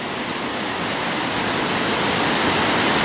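Water pours steadily along a mill lade in Crieff, a loud, continuous broadband rush like a small waterfall or fast stream, close by and unbroken throughout.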